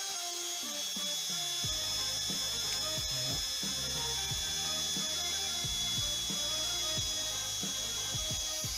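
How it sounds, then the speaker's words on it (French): A drill bores into the underside of a decorative Christmas snow globe, giving repeated short grinding and ratcheting bursts in an irregular rhythm, close and fairly loud against a steady background hum. "On va percer en dessous."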